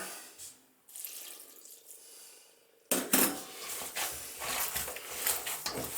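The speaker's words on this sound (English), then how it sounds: "So we take a little bit of ice water." Ice water runs and splashes into a bowl of bratwurst mixture, starting abruptly partway through and continuing steadily, with light clinks of kitchenware nearby.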